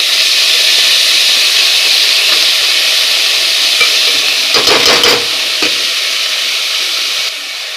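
Fresh fenugreek leaves fry in a pan with a loud, steady sizzle and hiss, broken by a few scraping stirs toward the end, with no talking.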